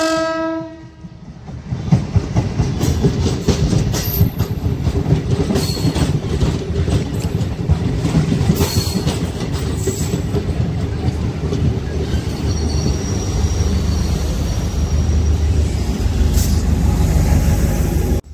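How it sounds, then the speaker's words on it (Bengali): A small passenger train running to Jaynagar, Bihar rumbles steadily close by, with wheels clattering on the rails, a horn sounding near the start and faint voices in the background. "ট্রেনটা দারুণ, ছোট্ট একটুখানি ট্রেন।"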